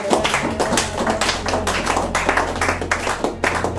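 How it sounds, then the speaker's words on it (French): Church congregation applauding together, a dense, steady patter of many hands clapping with sharp individual claps scattered through, loud and close throughout. "Est-ce qu'on peut acclamer la parole de Dieu?"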